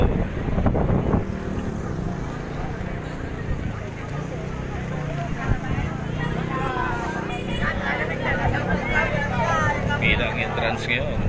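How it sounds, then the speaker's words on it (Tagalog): Steady wind rushes and roars over the microphone, with water sloshing and people talking and shouting throughout. "Yung ulan, mahambon, mahangin, malakas ang hangin."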